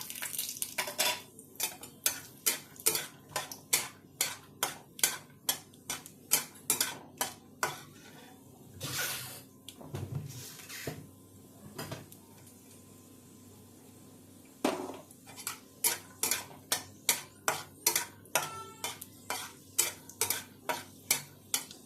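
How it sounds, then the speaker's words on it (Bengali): Peanuts being dry-fried and stirred in a pan, heard as a steady run of sharp metallic scrapes and clinks of a spoon against the pan, close and fairly loud, with a brief pause midway and no talk. "প্রথমে বাদামটাকে ভাজবো"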